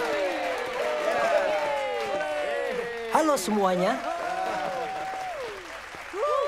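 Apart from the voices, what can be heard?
audience applause in a cartoon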